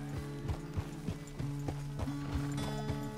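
Steady clip-clop of horse hooves at a walking rhythm in the video game Red Dead Redemption 2, clear and close, over a sustained low droning tone.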